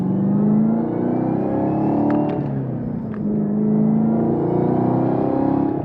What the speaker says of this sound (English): This car sounds so good under heavy load. Wide open throttle, all the valves in the exhaust open up.